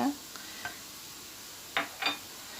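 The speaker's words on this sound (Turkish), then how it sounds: "Şimdi bu aşamada hemen tereyağımı ekliyorum." Butter going into a pan of rice and chickpeas being fried for pilaf, giving a faint, steady sizzle with a few short stirring scrapes and clicks near the end.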